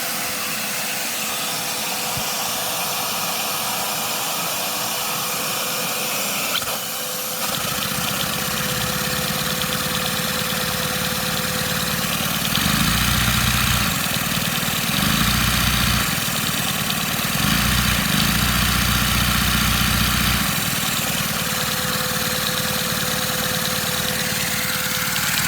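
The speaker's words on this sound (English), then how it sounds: "right now you can hear all the air coming through the exhaust valve" Continuous mechanical whir and airy rush of a small LEGO rotary-valve opposed-piston vacuum engine running, air rushing through the exhaust valve, growing slightly louder partway through, with pulsing low chugs later on; no voices.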